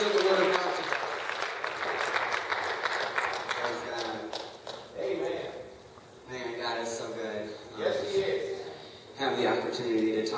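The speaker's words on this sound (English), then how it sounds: "let's give the Lord a hand clap of praise" A church congregation at a Thursday Bible study gives a round of applause, a dense spread of hand claps that swells and fades in waves while voices carry over it.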